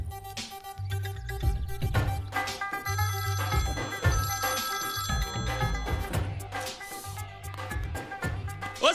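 Telephone bell ringing in a Hindi-Punjabi film, repeated loud rings in a regular pattern with musical score running beneath.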